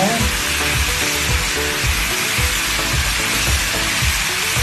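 Meat sizzles loudly in a pan for coconut milk adobo, a dense constant crackle with repeated scraping knocks of stirring throughout, close up.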